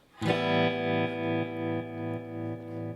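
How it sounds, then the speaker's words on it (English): Sustained guitar chord with an optical tremolo effect set to eighth notes, volume rising and falling in steady even beats, moderately loud with no voices. "It's called the optical trem, and I've got it set to an eighth note."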